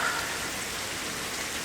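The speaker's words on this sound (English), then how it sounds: "It's raining" Steady rain pours outside a front porch, an even, continuous hiss of falling drops at moderate volume with no voices.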